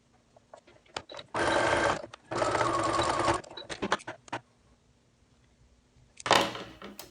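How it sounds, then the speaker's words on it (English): A sewing machine stitches down the folded open edge of a homemade fitted fabric face mask. Two sustained runs of rapid stitching are surrounded by handling clicks and taps, with a final short burst at the end, all close and with no speech. "We're gonna take that open edge, fold it over, and sew it down."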